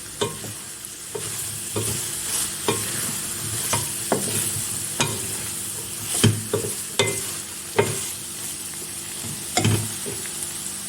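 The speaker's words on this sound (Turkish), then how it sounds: "İlave yapıyorum ve yeniden kavurmaya devam ediyorum." Steady sizzle of peppers and vegetables sautéing in a pan for chicken sauté, with repeated scraping clinks of a utensil stirring at an irregular rhythm, close by and no talking.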